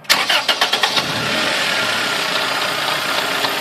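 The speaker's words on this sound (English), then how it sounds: "So if you could please start the car." A car engine cranks with several rapid starter pulses, then catches and settles into a steady, close idle during a fuel injector voltage test.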